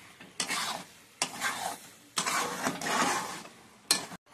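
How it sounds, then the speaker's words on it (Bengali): Egg, potato and dried fish are stirred with spices in a pan, giving several bursts of scraping and sizzling with short pauses between them, fairly close and with no voices. "ডিম, আলু আর শুটকি মাছ দিয়ে দিচ্ছে একসঙ্গে, 3 রকম মশলা দিয়ে এখন ভালো করে নাড়ছে"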